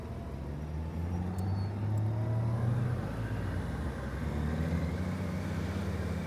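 Cars and a heavier vehicle roll past on a small-town street in the early afternoon, a continuous low engine and tyre rumble that rises and falls as vehicles pass at moderate distance, with a faint brief high squeak.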